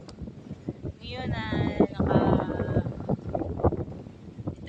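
Strong wind blowing outdoors on a hot day, a steady broadband rush of gusts buffeting the microphone throughout, with voices talking over it.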